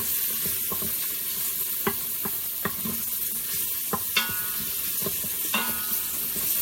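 Spare ribs stir-frying in black bean sauce in a pan, a continuous sizzle broken by repeated sharp clanks and scrapes of a utensil tossing the food at an uneven rhythm.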